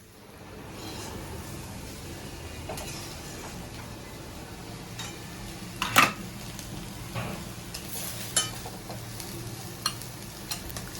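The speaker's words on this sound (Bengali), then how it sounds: "আলু ভাজা বানানো হয়ে গেছে" Potatoes frying in a pan for aloo bhaja make a soft continuous sizzle, with a few sharper utensil clinks and scrapes standing out near the middle and end.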